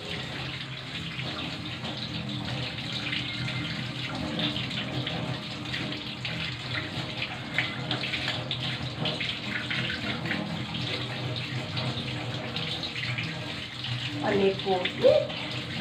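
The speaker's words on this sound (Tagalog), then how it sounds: "Hugasan na natin yung ating luyang nakuha." Freshly harvested ginger root, still caked with soil, is washed under a running tap: a steady, close splashing gush of water runs throughout, with a brief voice and a few sharper splashes near the end.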